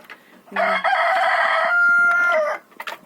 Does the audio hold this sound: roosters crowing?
yes